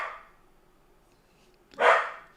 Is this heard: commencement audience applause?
no